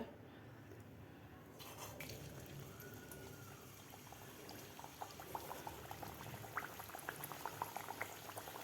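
Matar kachoris go into oil heated over medium flame, giving a faint, steady bubbling sizzle that builds gradually, with scattered small crackles and pops toward the end.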